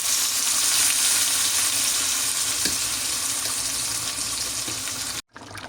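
Beef paye frying with masala in a pan, giving a loud, continuous close-up sizzle that holds steady throughout before cutting off abruptly at the end.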